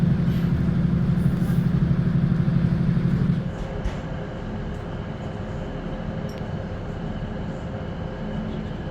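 Interior rumble of a Northern passenger train bound for Newcastle, a loud steady hum with a droning tone that drops to a quieter rolling noise partway through, and faint clicks over the running sound.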